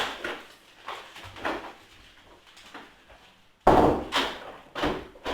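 A door being firmly closed while a resistance band is set at the top of it: a sharp solid thud stands out among softer bumps and rustles of handling, close by with no voices.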